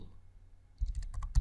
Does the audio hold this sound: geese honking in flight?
no